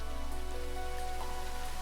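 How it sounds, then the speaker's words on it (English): Steady rain from the weather system in the video game Brickadia, a soft continuous hiss of falling drops with a low ambient hum beneath, even and unbroken throughout. "Then you take rain and you just slowly bring that up."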